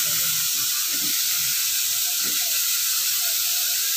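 Bitter gourd (ampalaya) being stirred in a sizzling pan, a steady loud hiss throughout with faint low scraping of the stirring underneath.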